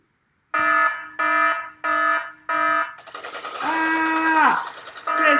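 An alarm rings loudly during a Fiasco game: four evenly spaced blaring beeps, then a long continuous wailing tone that drops away, then another beep begins.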